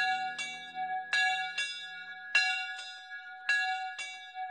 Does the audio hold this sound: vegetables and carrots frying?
no